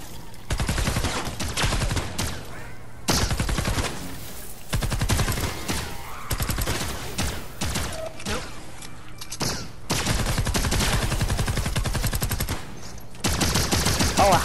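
Automatic pistol in the video game Fortnite Save the World fires loud rapid bursts of shots in long repeated strings separated by brief pauses, with a voice speaking faintly underneath.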